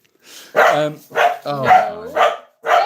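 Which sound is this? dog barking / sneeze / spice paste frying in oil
dog barking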